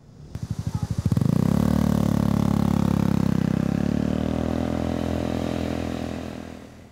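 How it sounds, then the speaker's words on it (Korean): An illegally loud motorcycle engine on a street in Gwangyang, South Korea, starts with rapid pops, then roars loudly and steadily nearby for several seconds before easing off slightly. "바로 오토바이 굉음 때문입니다"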